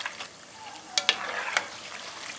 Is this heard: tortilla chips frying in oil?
yes